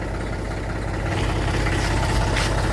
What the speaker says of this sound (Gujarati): એથી આજે બે ટ્રેક્ટરો સાથે જેસીબી લઈને આવ્યા છે